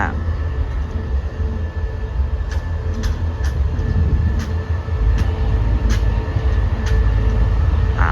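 A diesel locomotive train rumbles steadily with a deep low-frequency drone, close and continuous, with faint rhythmic clicks of wheels over rail joints.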